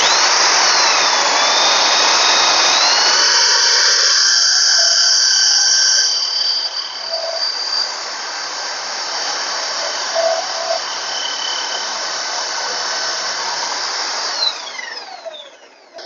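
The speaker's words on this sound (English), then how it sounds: "When I turn the drill on, it will turn the hoover on because it's all connected to the ultimate workbench" A power drill boring a concealed hinge cup into MDF with a fresh cutter whines loud and steady, joined by a connected vacuum extractor droning underneath, then spins down near the end.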